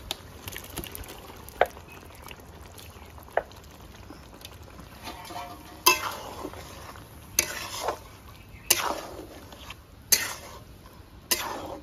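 Green chilli, onion and tomato paste frying in a pan for restaurant-style chicken Mumtaz, with a steady close sizzle and about eight sharp scrapes and clinks of a spoon stirring against the pan.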